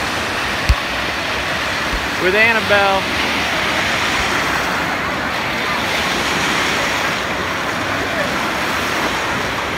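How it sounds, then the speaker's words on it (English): Surf rolls continuously through a resort wave pool in Riviera Maya, a loud, steady wash of breaking water, with voices and a brief excited cry over it. "The wave pool."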